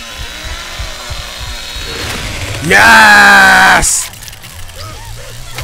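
Leatherface's chainsaw in the Texas Chainsaw Massacre game revs up to a loud, close, harsh buzzing roar for about a second, then cuts out abruptly as it stalls, with someone shouting in excitement over game noise.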